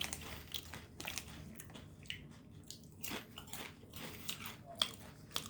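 Clancy Nashville hot chicken kettle chips being bitten and crunched up close, with repeated crisp crunches and chewing in an irregular rhythm, no talking.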